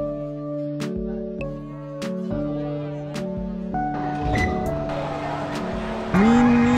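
Go-kart racing at the Mini Suzuka Circuit in Kaohsiung, with engines droning and revving, a rising whine as a kart accelerates, and a loud tire squeal near the end amid background music and chatter.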